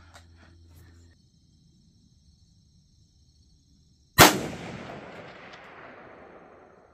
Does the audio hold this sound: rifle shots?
yes